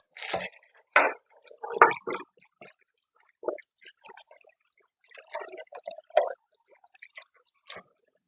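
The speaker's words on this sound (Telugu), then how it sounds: "ఇప్పుడు బియ్యం కడుగుతున్నాను, చూడండి." Rice washed by hand in water for cooking at home, heard as intermittent wet squishes, drips and sloshes in short bursts with quiet gaps, close and alone.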